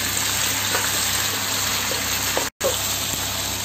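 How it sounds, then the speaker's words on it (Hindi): Red chillies, curry leaves and green chillies frying in hot oil give a dense, continuous close sizzle with faint crackles, briefly cut off by a short dropout near the end. "मैं अब ये लाल मिर्ची डालूंगी"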